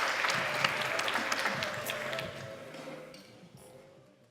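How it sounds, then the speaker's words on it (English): An audience at a startup pitch competition applauds the final team, warm sustained clapping at moderate distance that gradually thins out and fades away. "So please give a very, very strong and warm round of applause for the very last team."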